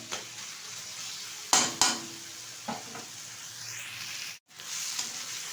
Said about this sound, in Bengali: অনবরত আমি নেড়ে একটু শুকিয়ে নেবো ভালোভাবে, তাহলে কিন্তু তৈরি হয়ে যাবে ইলিশ মাছের মাথা দিয়ে কচুর শাক